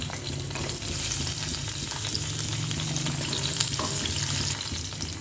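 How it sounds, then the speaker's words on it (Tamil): Onions crackle and sizzle in hot oil, a continuous dense frying hiss with a low rumble underneath. "ஆனியன் போட்டு நல்லா ஃப்ரை பண்ணிக்கலாம்."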